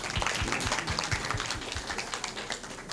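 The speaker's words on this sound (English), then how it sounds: "Give him a round of applause." An audience at a panel discussion claps steadily throughout, dense mid-distance applause with a few louder individual claps near the front.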